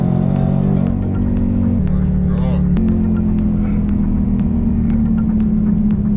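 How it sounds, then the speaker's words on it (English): Roush-tuned supercharged Ford Mustang under full throttle, a loud, deep exhaust drone holding steady with pitch shifts at gear changes, heard from inside the car as people talk over it. "When it floors, the exhaust becomes really loud."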